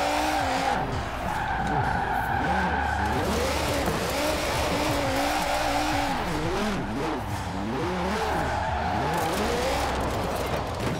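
A car drifts in Forza Horizon 4 with the Formula Drift pack, tires squealing continuously over a loud revving engine whose pitch swoops up and down.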